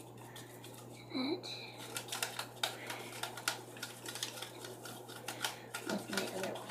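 Soap slime ingredients and salt are stirred in a bowl, giving quick irregular clicks and scrapes of the utensil, fairly close, over a steady low hum, with a brief spoken word near the start.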